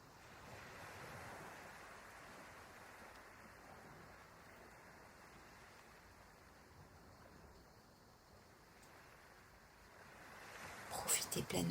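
Ocean waves wash in a soft, continuous surf with a gentle, rolling swell, heard faint and distant, with a louder rustle near the end.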